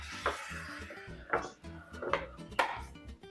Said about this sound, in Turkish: Ve şimdi hemen doğrama işlemine başlıyorum.